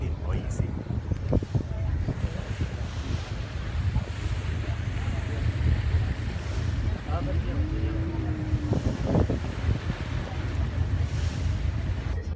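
Boat on the return trip from Samaria Gorge on Crete, a steady low engine drone with wind and water rushing around it, constant and fairly close, with faint voices mixed in.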